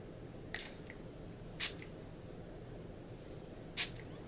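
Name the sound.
makeup fixing spray being sprayed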